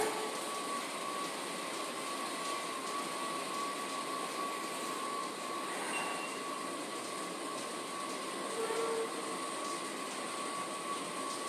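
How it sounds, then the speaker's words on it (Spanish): A Washington DC Metro train runs toward Union Station, giving a steady, loud, broadband rumble and hiss with a constant whine, heard from inside the car. "Estamos aquí en el metro"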